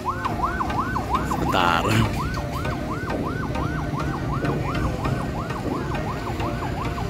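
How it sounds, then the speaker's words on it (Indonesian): A loud ambulance siren wails steadily as it passes along a road by the Cincin Ciroyom flyover construction, its rising and falling tone repeating without a break, with one brief spoken word near the start. "Dan sekarang ada ambulan."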